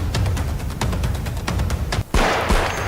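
Fireworks crackle and bang at a Dussehra burning of Ravan, Kumbhakarna and Meghnath effigies, rapid loud repeated bursts in a dense barrage with a short pause before another heavy crackling wave.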